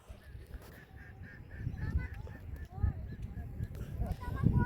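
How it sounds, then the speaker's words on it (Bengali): Geese or ducks honk repeatedly at a migratory river sandbank in winter, a string of nasal calls over steady wind and low rumble, with a voice talking in the background. "এই যে আমার সামনে একটা পাখি উড়ে যাচ্ছে"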